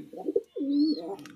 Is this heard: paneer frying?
no